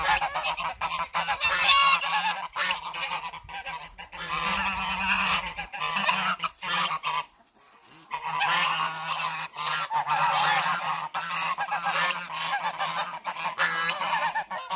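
A loud, sustained chorus of honking geese nearby, overlapping calls with a brief lull partway through before the honking resumes.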